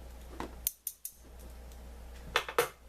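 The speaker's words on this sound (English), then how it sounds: "I have my tools: scissors" Scissors snip at a G.I. Joe Tiger Force Tiger Cat toy package, three sharp metallic cuts in quick succession, a pause, then a few more close, crisp snips with no talking.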